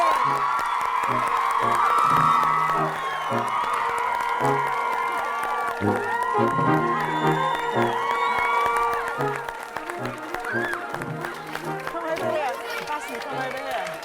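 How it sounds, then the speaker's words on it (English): Children cheer, whoop and clap for a team at a rescue-challenge event, the crowd noise continuous under steady thumping music and a voice talking over it. "a big round of applause for the team and Lieutenant Commander Damage"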